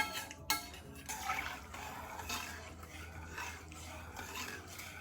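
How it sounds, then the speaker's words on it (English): Seasoned Mexican rice made with brown rice, chili powder, cumin and cayenne gets a quick stir in a pot, giving a brief scrape and clink followed by soft continuous stirring and rustling at close range. "Give this a quick stir."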